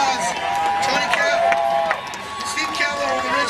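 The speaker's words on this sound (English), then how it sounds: "He deserves a big round of applause." An X Games 14 skateboarding crowd cheers for Steve Caballero, who was the top skateboarder in the world in 1979. A steady, dense roar of cheering and clapping fills the arena, with voices in the crowd.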